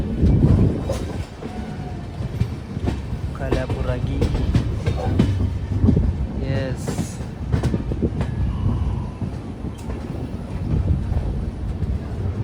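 A train rumbles along the tracks with low rattling and rolling noise, wind buffeting the microphone, and brief voices speaking over it.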